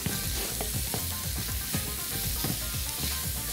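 Onion and garlic fry together in oil for a shrimp and tomato stew, a dense close sizzle with a quick crackling pulse running all through.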